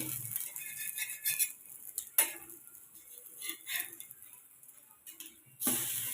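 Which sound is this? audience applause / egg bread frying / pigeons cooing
egg bread frying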